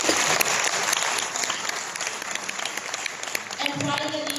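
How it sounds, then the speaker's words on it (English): Steady applause from a press conference audience fills the room with dense, moderately loud clapping throughout, while a voice begins speaking over it near the end. "we give Greta a round of applause and welcome"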